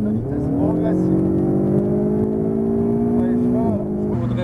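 A Ferrari 488 or Lamborghini Huracan Performante supercar engine pulls steadily on a race circuit, its pitch climbing smoothly for several seconds before dipping briefly as the throttle eases, loud and close throughout.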